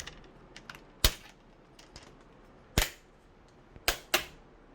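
Four sharp plastic snaps, separated by irregular gaps, as the bezel clips of an Acer Aspire Nitro VN7-591 laptop screen pop loose. Faint clicks fall between them in an otherwise quiet room.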